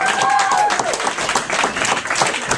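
Bar crowd applauding and cheering its loyal fans on a game night, with a dense wash of clapping carrying throughout under a voice talking.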